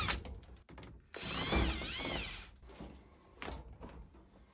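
A power drill runs in a burst, unscrewing the screws that join a dryer vent pipe, with a sustained whine in the middle and shorter mechanical rattles and clunks around it at close range.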